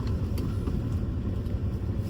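A Jeep Compass SUV drives along with a low, steady rumble of engine and road noise, fairly quiet and even throughout, with no voices.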